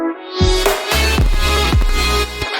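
An electronic dance track drop, starting filtered and muffled before the full mix bursts in with heavy bass and repeated sweeping hits, loud and continuous with no voices.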